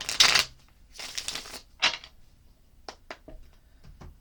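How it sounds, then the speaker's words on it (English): Decks of tarot cards being shuffled, with two longer papery riffling bursts followed by a few short taps and flicks as the cards settle; close and fairly quiet, with no talking. "Let's shuffle up this next couple of decks here real quick."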